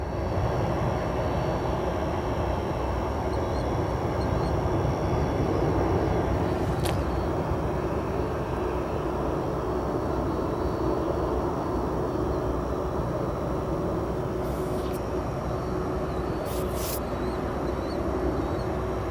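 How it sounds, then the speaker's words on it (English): An Atlas cargo aircraft taxies at O'Hare airport at about 15 knots, its jet engines producing a loud, steady rumble and whine that holds unbroken from start to finish. "That Atlas currently taxiing at 15 knots."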